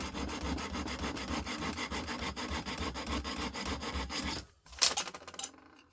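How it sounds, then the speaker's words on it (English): An old file rasps back and forth across the brass and stainless steel of a gas torch, loud and close in steady rhythmic strokes, then stopping abruptly and followed by a few sharp clinks and scrapes. "let's get an old file and see"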